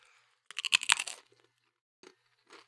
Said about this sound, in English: Chips ASMR, here you go.